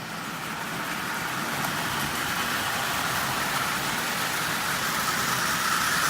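Marx 8602 plastic-bodied toy train locomotive with a vinyl traction tire running on the inside rail, pulling 21 tin litho cars, a steady faint whirring rumble throughout without talk.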